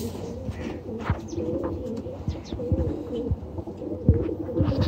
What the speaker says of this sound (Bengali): মাথা বড় কবুতর